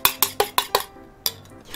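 Eggs whisked for an omelette in a bowl, six sharp rhythmic strokes of utensil against dish in quick succession, then a pause and one more stroke, close and clear with no talking.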